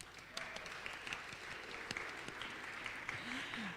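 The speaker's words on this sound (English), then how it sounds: "round of applause" Light, scattered applause from a Sunday service congregation after auction totals are announced, fairly faint with a few sharper claps and some background voices.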